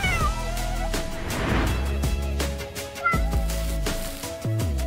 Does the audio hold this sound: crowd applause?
no